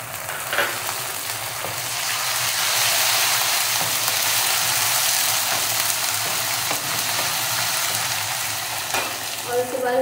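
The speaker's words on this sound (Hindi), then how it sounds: "ये प्याज हमारी ब्राउन हो गई है। अब मैं इसमें लहसुन का पेस्ट शामिल कर दूँ।" Garlic paste goes into browned onions already frying in a pan, giving a steady, loud sizzle with stirring scrapes throughout and no one talking.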